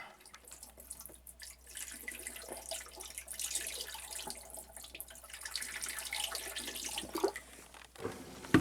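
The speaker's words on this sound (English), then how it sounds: "I can hear it splashing outside the side of the boat" Water splashes and gushes as a newly replaced marine sump pump runs, pushing water out over the side of a boat; a steady, moderately loud flow with occasional louder spurts, no talk.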